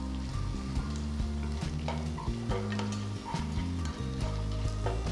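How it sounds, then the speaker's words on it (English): Chopped onions, slit green chilies and fresh curry leaves saute in a hot pan for a garlic egg fry, giving a steady close sizzle with repeated scraping stirs over a low background hum. "add 2 onions finely chopped and saute."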